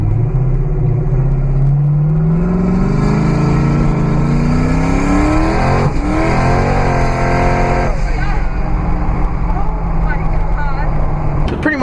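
A 1000hp Camaro revving hard and accelerating as its tires break loose, a loud continuous engine roar rising in pitch, dropping, then building again, close and dominating throughout.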